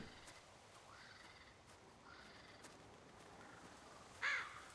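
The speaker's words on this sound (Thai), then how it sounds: "ตกใจอีกา" A single sharp crow caw cuts in near the end of The Walking Dead Season Two game scene, loud and close against a quiet, low ambient background.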